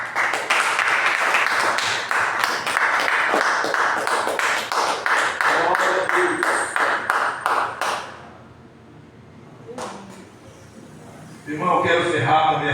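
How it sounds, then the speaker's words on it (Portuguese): Congregation clapping hands in steady rhythmic unison at a church service, loud and close for about eight seconds, then a pause with a single sharp knock before a voice resumes. "As Tuas palmas exaltam o nome do Senhor."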